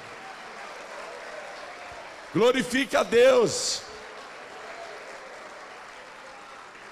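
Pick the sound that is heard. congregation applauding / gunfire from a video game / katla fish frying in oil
congregation applauding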